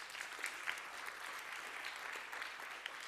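A round of applause from a live audience at a geometry talk, steady, even clapping of moderate loudness that runs the whole stretch without talk over it.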